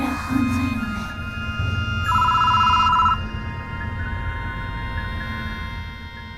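Telephone in a phone booth rings in the horror game Death Mark, a single loud electronic ring burst standing out over a low droning ambience, then fading back to the eerie background.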